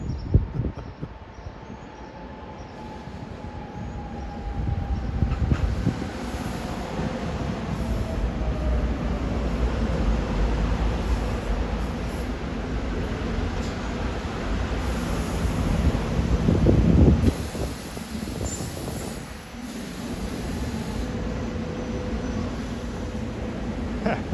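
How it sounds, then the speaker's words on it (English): A Philadelphia-area commuter train bound for Lansdale passes with a long, steady rail rumble and wheel noise, swelling midway and then easing off. Wind buffets the microphone throughout. "here comes a Lansdale train."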